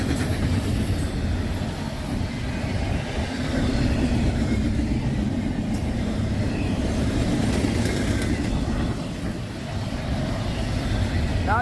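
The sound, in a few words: freight train passing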